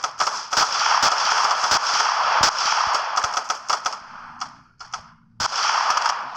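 Rapid gunfire in GTA IV sounds as a loud burst of sharp cracks over a steady roar, pausing briefly near the end before the shots resume.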